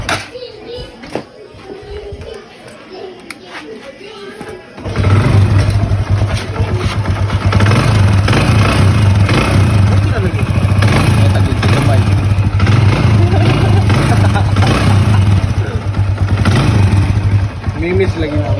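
A Honda XRM 125 motorcycle engine with a noisy, weak clutch housing starts up and runs steadily at idle, with a loud, rough, rattling mechanical drone; children's voices can be heard faintly at first.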